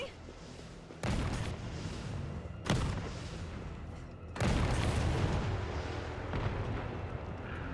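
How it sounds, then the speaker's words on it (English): Rocket launcher blasts in Resident Evil 3 Remake: three heavy booming explosions, each a sudden loud burst that rumbles and trails off, the last one long and sustained, with a voice talking over the action. "Rocket launcher? Really?"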